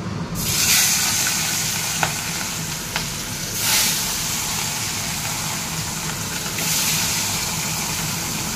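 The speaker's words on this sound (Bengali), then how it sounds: "এবার মাছগুলোকে ভেজে নেব।" Fish pieces coated in salt and turmeric fry in hot oil, giving a steady, close, continuous sizzle with a few soft clicks and brief swells of crackle along the way.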